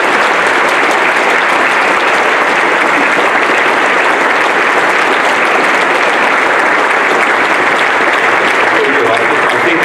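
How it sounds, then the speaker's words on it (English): Big audience applause at the official opening of Bendigo Hospital, loud, dense and unbroken clapping from a large crowd, with a murmur of voices underneath throughout. "Can we give a big round of applause to them for the work that they do every day?"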